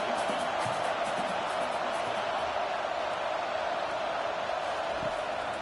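Stadium crowd noise from an NCAA 25 college football video game, UCLA at Nebraska, a steady loud roar of cheering fans filling the whole stretch with no pauses.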